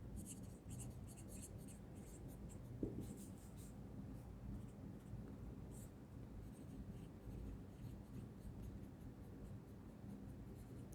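Pen scratching steadily on paper while a physics formula for the magnetic moment of a revolving electron is written out, faint and close with soft continuous strokes.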